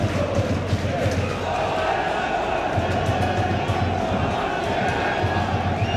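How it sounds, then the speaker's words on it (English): Dundalk football supporters packed into a stadium at the Setanta Sports Cup Final, a dense, steady crowd roar with rhythmic chanting pulses throughout, loud and close. "Fantastic crowd here from the Dundalk today, Will."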